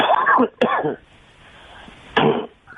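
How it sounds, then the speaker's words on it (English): A person with allergies coughs and clears their throat in a few short, close bursts separated by a quiet pause. "I have allergies, so it makes me cough"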